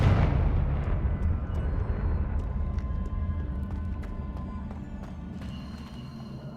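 Confringo fire spell explosions in Hogwarts Legacy burst loudly at the start and leave a long rumbling roar that slowly fades, with faint crackles and distant impacts scattered through it.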